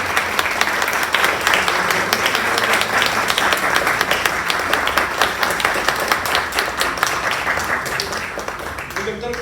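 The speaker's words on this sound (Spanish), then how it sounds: "les pido un aplauso para el doctor Lauro Eduardo." A crowd gives sustained applause at a recognition ceremony in Parque Naucali, with dense, steady clapping at close range filling the whole stretch without a break.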